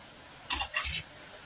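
A kadhai set down on the stove, two quick close metallic clanks in a quiet kitchen.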